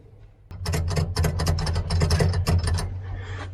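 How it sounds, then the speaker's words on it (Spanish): Rapid ratcheting clicks as a brake bleed screw is turned back in on an ICP Savannah S light aircraft build, a close, quick run of mechanical ticks over a low hum. "Vuelvo a poner el tornillo."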